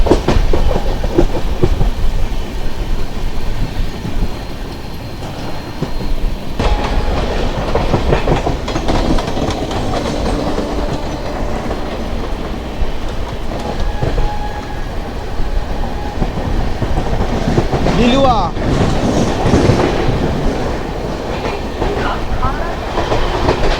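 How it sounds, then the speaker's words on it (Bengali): A Tarakeswar local train passes alongside with a loud, continuous rumble and rhythmic clickety-clack of wheels on rails, heard from aboard a moving train. "আর আমাদের পাশ দিয়েই পার হচ্ছে এই যে পিছনের এই ট্রেনটা, এটা হচ্ছে তারকেশ্বর লোকাল"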